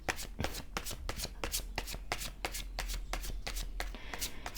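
Tarot cards being shuffled by hand, a fast run of crisp riffling bursts repeating steadily and close up, with no talking over them.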